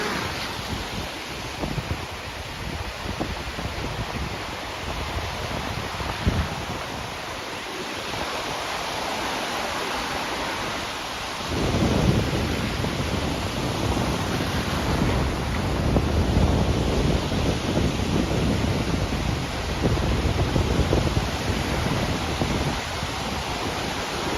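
Steady roaring wind off the sea at Khao Takiab, Hua Hin, a broad rushing noise that swells louder partway through and stays strong, with no voices.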